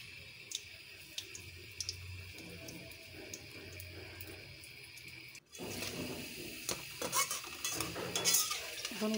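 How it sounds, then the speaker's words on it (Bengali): Pitha rice cakes fry in hot oil with a soft, steady sizzle, quiet at first, then louder and busier after a brief cut, with scraping and stirring clinks from a utensil and no talk. "এখন সবগুলো পিঠে আমি তেলে ভেজে নেব"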